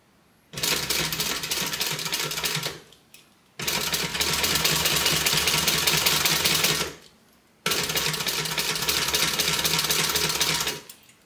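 A sewing machine stitches across a bulky seam in three loud, close bursts of fast, steady whirring, separated by brief pauses.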